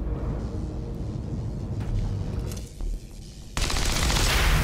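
Video game gunfire in XCOM 2: War of the Chosen, a dense burst of rapid shots and blasts that is loud and continuous, ending in a brighter, harsher barrage.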